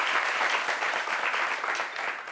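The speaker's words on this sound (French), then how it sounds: "On applaudit pour notre préfet." Steady, dense applause from an audience honouring a prefect at a live event, continuous and fairly loud throughout with no break.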